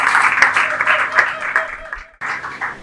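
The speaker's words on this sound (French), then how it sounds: "on peut acclamer très fort pour vous" An audience applauds a couple at a civil wedding ceremony at the town hall, steady close clapping with a brief lull before it resumes, and voices mixed in.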